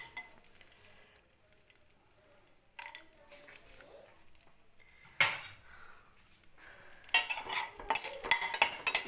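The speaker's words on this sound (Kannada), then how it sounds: "ಗೋಡಂಬಿ ಹಾಕ್ಕೊಂಡು ಸ್ವಲ್ಪ ಫ್ರೈ ಮಾಡ್ಕೊಳ್ಳೋಣ." Cashews frying in ghee for vermicelli payasam, with quiet stirring and scraping of a utensil in the pan, then louder bursts of sizzling and clatter toward the end.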